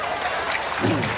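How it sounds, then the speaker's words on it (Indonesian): An audience at an Islamic question-and-answer session claps briefly while a voice comes in toward the end. "tepuk tangan"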